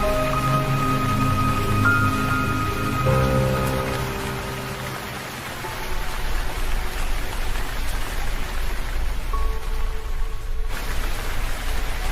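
Steady rainfall in a Hindi children's cartoon, a dense hiss of drops hitting surfaces that swells and dips slightly, with faint tonal background music early on and no talking.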